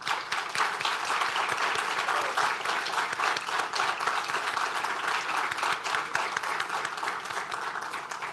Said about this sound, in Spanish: le vamos a dar un gran aplauso al querido Alberto Sato